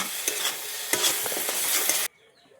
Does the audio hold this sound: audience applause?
no